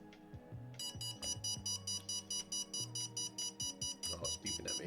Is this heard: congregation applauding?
no